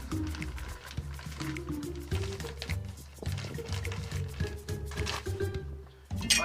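Quikrete vinyl concrete patch mix being poured in small increments, a thick wet slop with squishing, dripping and uneven gloopy pulses, close and fairly quiet.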